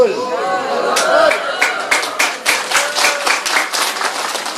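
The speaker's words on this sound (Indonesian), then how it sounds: "Tepuk tangan" An audience at a religious talk claps in a burst of scattered applause that settles into rhythmic hand claps, fairly close, with voices and chatter mixed in.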